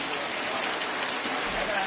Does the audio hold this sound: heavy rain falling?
yes